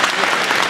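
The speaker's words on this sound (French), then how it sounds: "Allez, les applaudissements." Brief burst of steady audience applause at a prize ceremony for the Utopiales 2011 award, dense clapping filling the moment with no break.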